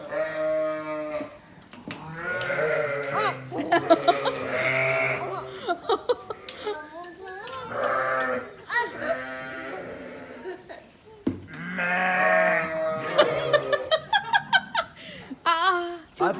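Lambs bleat repeatedly at close range in short, wavering calls, with people laughing and talking between them.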